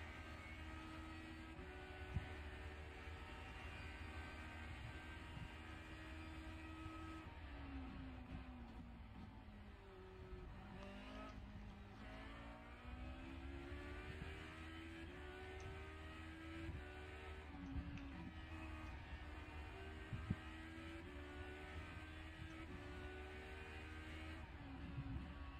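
Race car engine in the iRacing sim game drones steadily with shifting revs through chicanes, pitch dipping and climbing as gears change, tire and bump noise woven in, continuous and moderately loud throughout.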